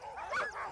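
Harnessed sled dogs at the Iditarod start bark and yip excitedly in a short burst, several voices overlapping close at hand.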